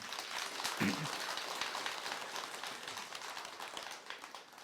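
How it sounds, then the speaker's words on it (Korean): Congregation clapping during a Buddhist temple dharma service at Bomunsa on Ganghwa, a moderate, fairly quiet round of applause with scattered sharper claps and a brief voice or thump near the start. "그 스님들에게 큰 박수 부탁을 드리겠습니다"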